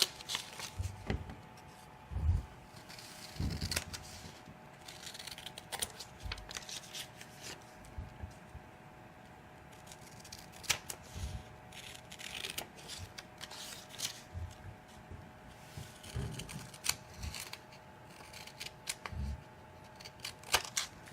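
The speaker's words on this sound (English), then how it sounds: "we're going to cut from the outside into the line as far as they go, all the way around" Scissors snipping paper for a children's craft project, inward from the edge toward the lines and all the way around, heard as a long run of quiet, close, irregular cuts with no talking.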